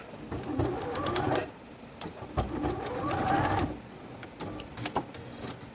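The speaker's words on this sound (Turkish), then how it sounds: "lastiğimin üstüne getirerek buraya da bir dikiş atıyorum" A sewing machine runs two bursts of fast, even stitching over elastic for a blouse, separated by a short pause. Sharp mechanical taps and clicks follow, close and clear, with no talking.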